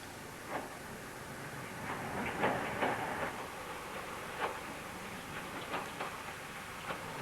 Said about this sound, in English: The evening train from Exeter comes in for the last lap.